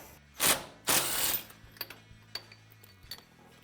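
A ratchet turns to back a bolt out of the engine shaft on the CVT clutch of a Polaris RZR XP 900/1000, with two loud close bursts followed by several lighter clicks and taps.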